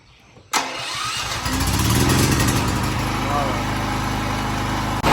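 A farm generator set cranks, catches and settles into a loud, steady running drone after a brief quiet lead-in. The engine noise holds continuously to the end.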